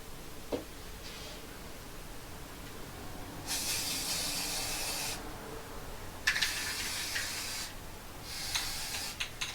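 A spray paint can hisses in three sustained bursts of a few seconds each, fairly close, separated by quiet pauses with faint handling clicks.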